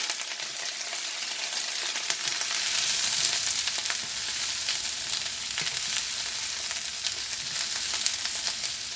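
Steady, bright sizzling of mixed vegetables stir-frying in a pan, continuous and close, with occasional small crackles and stirring sounds.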